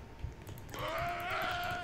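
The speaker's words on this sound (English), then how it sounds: "Oh, there's a sheep." A sheep bleats in the Roblox game The Normal Elevator, one drawn-out, wavering bleat up close that starts partway through and holds to the end over faint background noise.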